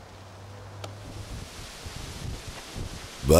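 Blustery wind gusting across an open graveyard, a steady broadband rush with rustling swells, rising into a loud buffeting gust at the very end.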